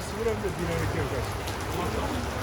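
Rain falls on a city street as a steady, even patter and hiss, with voices talking faintly underneath.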